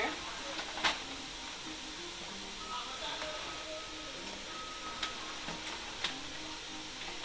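Collard greens with smoked ham hocks cooking down in a pot give off a steady soft hiss and sizzle, with occasional clinks and stirring noises, fairly close.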